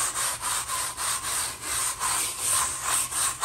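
Foam pad scrubbed back and forth across an epoxied garage floor to lift embedded tire marks, giving rhythmic, close swishing rubs in quick repeated strokes with no talking.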